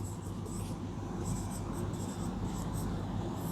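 Sanskrit words being written by hand, a soft steady scratching of pen on paper, close and continuous over a low background hum.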